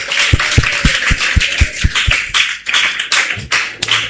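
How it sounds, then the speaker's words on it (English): Audience applause for parents standing at a primary school graduation ceremony, with steady clapping from a crowd and a regular rhythmic pattern of sharp claps running through it. "Please give them a rousing round of applause."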